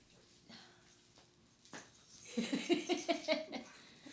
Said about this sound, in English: Brief interruption from my dog